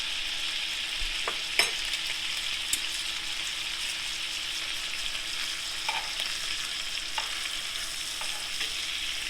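Asparagus frying in butter in a cast iron pan gives a continuous, even sizzle with a few soft stirring clicks, no voices.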